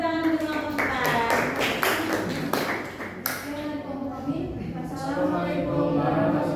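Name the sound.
audience clapping for group 4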